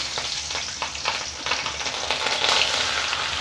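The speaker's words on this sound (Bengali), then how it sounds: "তারপর লাউগুলো ভালো করে নাড়িয়ে নেব। ভালোভাবে নাড়িয়ে নিলাম।" Bottle gourd pieces fry with black cumin and chopped chillies as they are stirred in a pan, a close, continuous sizzle broken by scraping and tossing sounds, growing a little louder toward the end without any talking.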